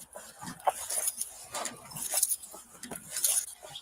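A dog whimpers and yips in short, uneven bursts during a police encounter, fairly close, with some faint clatter in the background.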